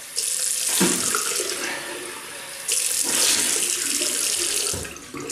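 Shaving soap being rinsed off under a running bathroom tap, a close, loud rush of water that splashes and shifts as hands move through the stream.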